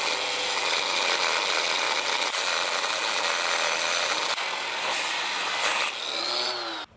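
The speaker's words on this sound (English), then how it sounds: "So the first thing you'll notice when I run the grinder, it's running that way." An angle grinder with a cutoff wheel whines at a steady high pitch, close and loud, while working on an Oliver plow, with brief shifts in tone as the wheel bites and the motor spins down.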